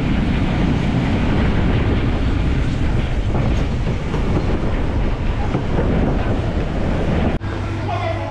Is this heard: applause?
no